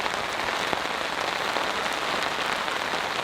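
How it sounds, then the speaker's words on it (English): Heavy rain drums on a cot tent during a storm, a dense, even hiss of close raindrops that holds steady throughout. "Heavy rain is incoming."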